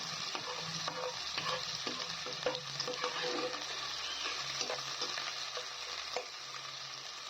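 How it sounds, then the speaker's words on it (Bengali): Sliced onions sizzle and crackle in hot mustard oil while a spatula stirs them, frying them crisp for a Bengali mutton curry; a steady, close hiss runs throughout with scraping strokes and no talk. "এখন পেঁয়াজ দিয়ে পেঁয়াজটাকে আমি বেরেস্তা ভেজে নেব"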